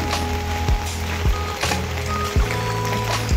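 Heavy monsoon rainwater rushes steadily down a slope outside a home, a continuous loud watery roar with a few low thuds and surges breaking through.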